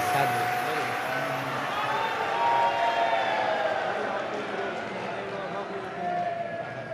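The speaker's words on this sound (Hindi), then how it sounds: "एक बार जोरदार ताली बजाइए" An audience at a Shiv Mahapuran katha gathering claps steadily, a broad wash of applause and cheering that holds for several seconds and swells slightly in the middle.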